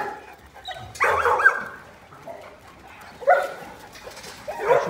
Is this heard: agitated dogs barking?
yes